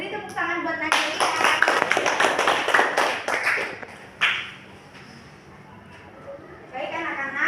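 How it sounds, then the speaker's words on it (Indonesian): Schoolchildren in a classroom clap for a classmate in a brisk burst of applause lasting a few seconds, then it fades into a quiet room before a few more claps. "Beri tepuk tangan buat Najalia."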